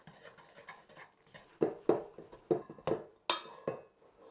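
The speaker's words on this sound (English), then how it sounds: "Just pop your dry ingredients in and get your hook and just mix it round." Dry ingredients for Belgian bun dough being mixed with a dough hook in a bowl, producing a run of rhythmic knocking scrapes that grow louder and more regular midway.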